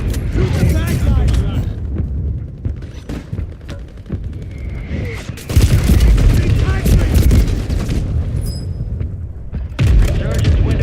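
Loud gunfire and booming explosions from a Call of Duty Warzone battle royale match, with dense bursts and thuds through most of the stretch and a heavier barrage in the second half, with talk mixed in.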